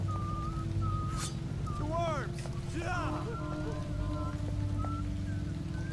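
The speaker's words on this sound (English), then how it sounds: "Stop whistling." A game character in Dishonored whistles a wavering, sliding tune in short phrases over a steady low hum and water-like ambience, with a brief sharp clatter early on.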